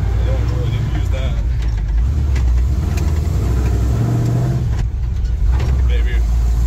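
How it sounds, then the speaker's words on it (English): A 1956 Chevy pickup truck engine runs loud and steady through a test drive, a low continuous rumble with slight shifts in pitch as it works through the gears, while someone talks over it. "We're taking the truck, at least for a little test drive."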